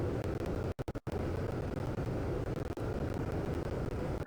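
Jet plane engine roaring steadily in the Roblox game Plane Crazy, a dense, loud, constant rumble with a few brief dropouts near the start.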